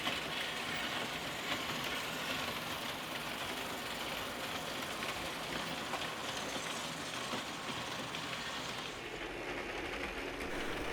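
Märklin model trains from the 1980s run on M track, led by V200 and V160 locomotives, making a faint, steady whirring rumble with soft rail clatter throughout.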